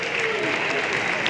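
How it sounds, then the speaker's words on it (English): Applause from a crowd at a live-streamed event, honoring a restaurant sponsor, a brief, dense and fairly loud burst of many hands clapping with some faint voices mixed in. "can we show by a round of applause our appreciation for Chick-fil-A tonight,"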